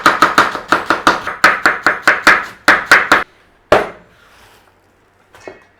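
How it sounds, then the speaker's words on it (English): Thin slices of cabbage being cut with a knife on a board for coleslaw: about a dozen quick, loud, evenly spaced chops, then a pause, one more firm chop and a faint final tap. "A little bit of cabbage. Again, thin slices."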